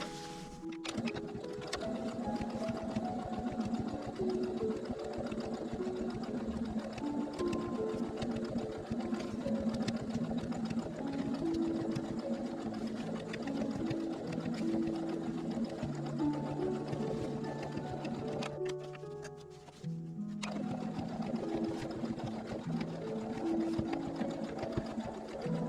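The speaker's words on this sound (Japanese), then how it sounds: "こっちはもう全部縫っていきます。" A sewing machine stitches a four-pocket fabric bag in long, continuous runs of rapid mechanical whirring and needle chatter, close and steady, with a brief pause near the end before stitching resumes.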